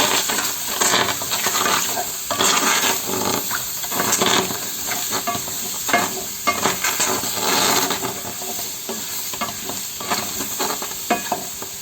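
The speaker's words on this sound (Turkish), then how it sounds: "ısınmış olan tenceremizi alıp şöyle bir coz sesi duyalım" Loud, continuous sizzling and hissing of beef kidneys frying in a hot pot, with occasional stirring scrapes and crackles throughout.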